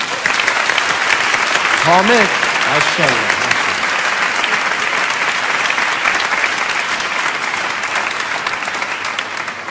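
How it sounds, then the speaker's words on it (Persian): Sustained audience applause fills a hall during a Quran recitation event, broad and steady throughout, with a voice briefly speaking over it near the start. "حالا تشویق کنید."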